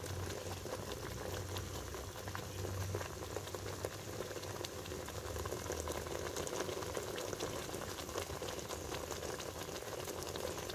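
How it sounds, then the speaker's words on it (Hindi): Curry leaves sizzle and bubble in hot oil, a steady dense crackling hiss that runs continuously and close by, with no voices. "तब तक इसे उबालना है।"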